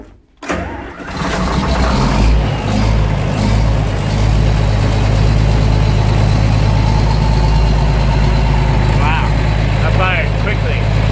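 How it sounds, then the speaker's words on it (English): A 4630 tractor engine cranks briefly, catches, and settles into a loud, steady, low-pitched idle that continues to the end, with a voice speaking faintly over it. "I'm getting this tractor fired off."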